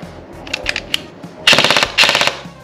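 ARP556 airsoft rifle firing at a range, a few scattered single shots followed by two rapid-fire bursts of snappy, mechanical clacks, close and loud with no talking.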